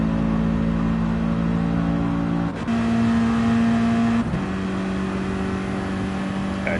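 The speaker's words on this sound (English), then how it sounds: "Even the AMG struggling up that slope," A Mercedes-AMG race car in a racing video game labours up a slope, its engine giving a steady droning hum with a couple of gear shifts that change the pitch, constant and fairly loud with no speech.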